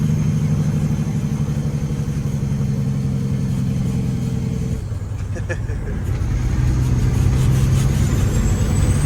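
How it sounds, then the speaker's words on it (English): A truck engine with a turbo runs loud and steady through the stretch, fitting an engine brake's heavy rumble; it dips briefly around the middle, then swells again with a rising turbo whine near the end as people talk. "That's that engine brake and a half right there."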